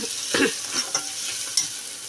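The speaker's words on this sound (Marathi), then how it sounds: "आपण इथे परतून घेत आहोत आपला कांदा आणि टॅमॅटोसुद्धा मऊ झालेला आहे" Onion and tomato sautéing in a pan, a soft sizzle broken by several scraping stirs of a spatula, close and fairly quiet.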